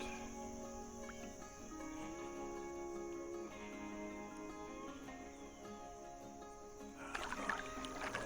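A small boat is paddled along the shallow Pickens Creek, with quiet strokes and soft water movement, crickets and birds faint in the background, and a splashier stroke near the end.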